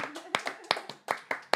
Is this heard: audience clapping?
yes